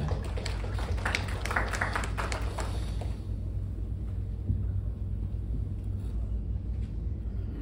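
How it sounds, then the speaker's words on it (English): Scattered clapping from an event audience rises briefly over a low room rumble, then fades within a few seconds, leaving a quiet hum. "Let's give a round of applause for him."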